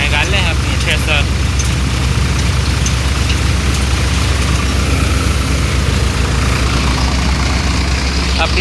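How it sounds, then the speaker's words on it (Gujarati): A Shri Balaji thresher run by a Swaraj 744 FE tractor at about 1200 rpm while threshing mustard, a loud, close, steady low engine rumble and mechanical drone throughout, with brief voices near the start. "1200 आरपीएम जेवुं हाले है। आ रीतना कंईक हाले है आपनुं ठेसर।"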